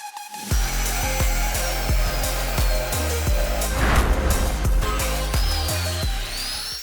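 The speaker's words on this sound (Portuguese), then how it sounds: "a gente tá soldando aqui uma estrutura que vai na coluna do para-brisa" Close, harsh crackling and buzzing from welding an iron reinforcement for a car's windshield pillar, coming in repeated bursts with short gaps, loud and steady, with no talking.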